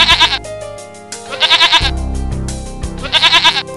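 Three loud bursts of lamb bleating from an animated children's story, close and repeated in a wavering rhythm, with a low musical or ambient bed between the bleats.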